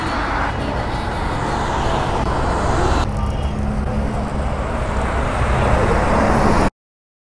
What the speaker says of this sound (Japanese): バンバン車バイクが通ってます